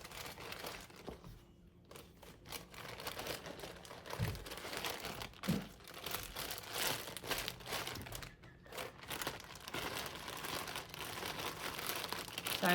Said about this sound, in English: crinkly sound. That was just me putting it back in its little bag that it came in